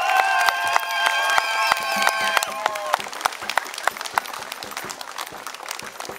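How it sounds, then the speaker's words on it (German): An audience at a harbour festival in Mescherin bursts into loud, sustained applause with dense clapping, while brass music fades out under it in the first few seconds. "Mit einem Applaus!"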